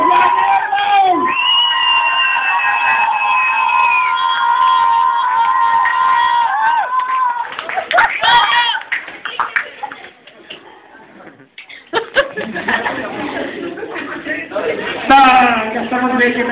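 An audience at a dance competition award ceremony cheers and applauds. Sustained shouting and whooping swell into a dense burst of clapping and cheering toward the end, with a voice talking over the crowd.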